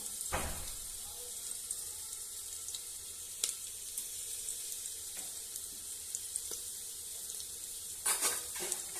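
Onions frying in a pan for rajma, a soft steady sizzle with occasional light clinks of stirring, faint and close, with a few louder clatters near the end.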